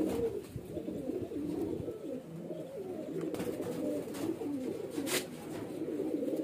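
Pigeons kept at a home loft, highflyer breeding birds, coo in soft repeated low murmurs, close and continuous with no talking.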